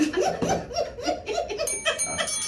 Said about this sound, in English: I'm gently tapping this bell